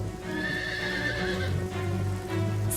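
A horse whinnies loudly and close, its neigh drawn out, while hooves clop beneath over a steady patter of rain.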